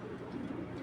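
Soft, low cooing from racer pigeons, one drawn-out burst that sits faint and close against a quiet background.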